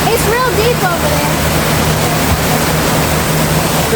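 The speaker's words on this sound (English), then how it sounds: "That waterfall over there looks so cool." A waterfall seen from a vacation stay near Gatlinburg gives a steady, loud broadband roar, and a voice briefly speaks over it at the start.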